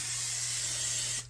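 Cooking spray hisses steadily onto a pan in one continuous burst, close and clear, then stops abruptly.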